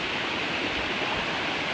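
A mountain stream at a hiking water crossing rushes in a continuous, even broadband wash of flowing water, close and steady with no voices.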